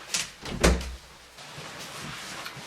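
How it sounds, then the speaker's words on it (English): An indoor door is shut with a single close thump, followed by faint room tone and no talking. "I'm going to actually shut this door too."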